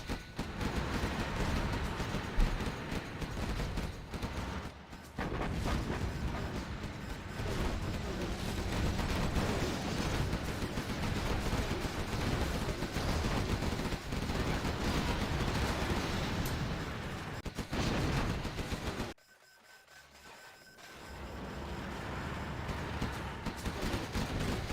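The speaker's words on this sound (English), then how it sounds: "Artillery is going to absolutely decimate StaZzz's base here" Artillery shells and gunfire pound a base in a 2v2 real-time strategy tournament match, a dense continuous barrage of booms and crackling bursts that drops briefly near the end before resuming.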